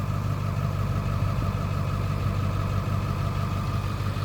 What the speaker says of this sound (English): we'll let the diesel run outside